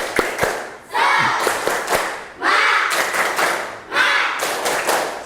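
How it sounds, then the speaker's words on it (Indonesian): A classroom of students performs the 'tepuk semangat' clapping chant, with sharp rhythmic claps and three loud bursts of shouted group voices. Each burst stands close and energetic between the clap patterns. "Oke, tepuk semangat."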